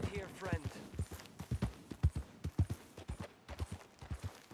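Horse hooves clip-clop in a steady walking rhythm in the Red Dead Redemption 2 video game, close and moderately loud, with a voice talking over the hoofbeats.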